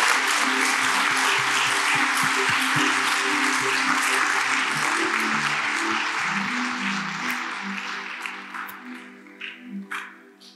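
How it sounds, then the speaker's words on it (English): Sustained applause from a large church congregation, steady and dense, with a few cheers and scattered voices rising as the clapping fades toward the end. "the reason why you're clapping is not because of the preacher"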